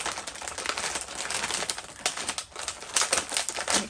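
Noisy crinkling and rustling of Aldi cookie packaging handled up close, a dense run of crackles and snaps that swells and dips over several seconds.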